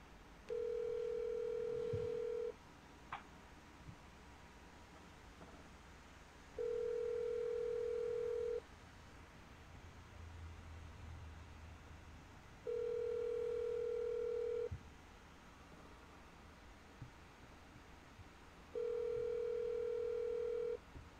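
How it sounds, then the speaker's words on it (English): Ringback tone on a phone line after dialing: four long, even beeps separated by silent gaps, clear and alone over faint line hiss, with no talk. "Dialing the phone right now."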